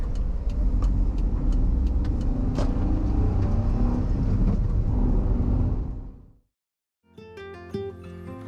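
A car drives along a road during a road trip in Shiga Prefecture, giving a steady, close rumble of engine and tyre noise that fades out near the end before brief music takes over.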